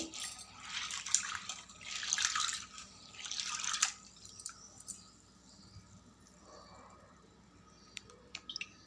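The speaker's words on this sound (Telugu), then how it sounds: "ఇప్పుడు వాటర్ పోసి 2-3 సార్లు శుభ్రంగా కడుక్కొని నానబెట్టుకోవాలి." Water splashes and swishes in bursts as soaked grains are rinsed by hand in a bowl two or three times, followed by quieter drips and small clinks.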